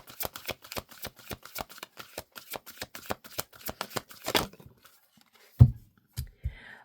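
A deck of tarot cards is riffled and shuffled in quick, crisp, evenly spaced flicks for several seconds, followed by a few softer taps and slides as cards are drawn and laid down, close by with no talk.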